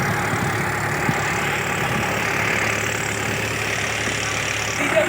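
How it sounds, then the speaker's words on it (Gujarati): A tractor engine runs steadily close by while driving a pump that pushes water through a pipeline, a continuous low idling drone with no break across the whole stretch. "ટ્રેક્ટરની અંદરમાં લીવર મારી અને પાણી બહાર કાઢવામાં આવે છે"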